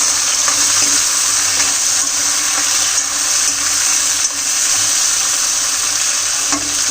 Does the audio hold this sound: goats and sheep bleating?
no